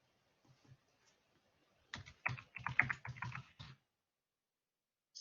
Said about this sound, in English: I will type it up.